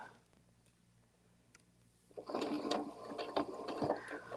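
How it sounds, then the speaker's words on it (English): A sewing machine stitching fabric: quiet room noise at first, then a dense, whirring mechanical rattle of rapid stitches starts partway through and runs steadily to the end. "I need to go 1 more stitch."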